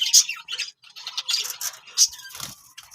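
A mischievous pet parrot in a home parrot colony gives short, sharp squawks and chirps in quick bursts, close to the microphone, with small clicks between calls.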